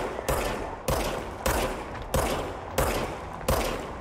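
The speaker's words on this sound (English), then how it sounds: "You gotta give him warning shots." Gunfire in the video game Control: six loud, sharp shots in a slow, evenly spaced rhythm, each with a short decaying tail, close and alone with no talking.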